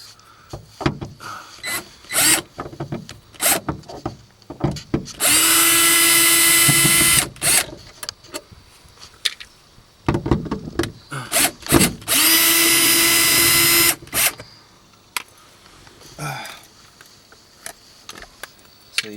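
Power drill backing Phillips screws out of the headliner of a 1997 Honda Civic, two loud sustained whirring runs of a few seconds each, surrounded by clicks, taps and handling noises close by.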